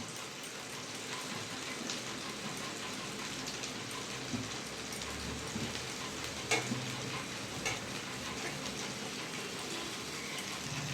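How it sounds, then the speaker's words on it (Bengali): A spoon stirs a grated paneer filling with Kashmiri chilli in a pan for potol dorma, a steady sizzling, scraping texture that runs continuously and fairly loud with a few brief clinks. "ভালো করে নেড়ে পুরটা বানিয়ে নেবো"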